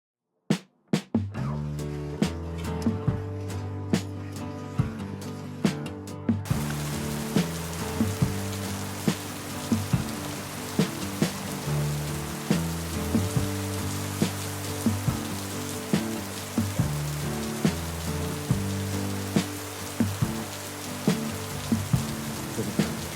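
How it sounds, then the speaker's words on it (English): Steady rain patters on an RV throughout, with occasional sharper drips and knocks standing out over the constant wash. "Raining."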